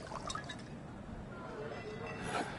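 In Cyberpunk 2077, a drink is poured into a glass, giving a soft trickle with light drips over a faint background murmur.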